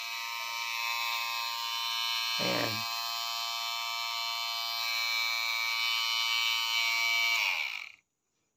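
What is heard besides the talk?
DIY heavy trimmer clipper motor running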